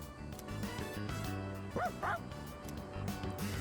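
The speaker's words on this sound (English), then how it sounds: "What you barking at, boy?" A dog in the Persona 3 Reload video game gives two quick yipping barks over continuous game music, mid-level and brief.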